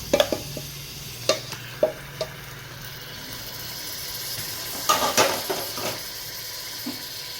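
Mutton being stirred into masala in a pot, with a low steady sizzle under scattered scraping clicks and clatters from the spoon against the vessel, fairly close and moderately quiet.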